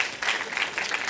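A conference audience at Steam Dev Days applauding, a short burst of dense, lively clapping.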